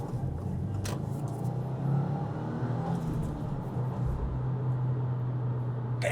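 Steady low road rumble and engine hum inside a 2025 Subaru WRX cabin while driving, continuous and moderately loud with a slight swell of revving midway, no talking.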